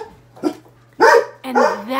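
A dog barks sharply at close range in a house with a baby, with a short yip followed by two loud barks.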